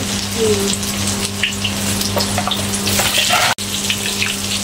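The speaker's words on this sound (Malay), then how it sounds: "Kita goreng tempe dulu." Steady, crackling sizzle of tempeh frying in hot oil, close and continuous, with a low hum beneath and no talking.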